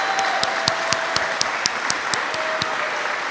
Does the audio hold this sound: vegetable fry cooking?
no